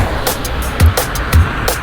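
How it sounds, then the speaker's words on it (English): Traffic ambience sample played in Ableton Sampler: a steady low rumble of passing vehicles with a few louder swells as cars go by, continuous and fairly close, with no voices. "Traffic."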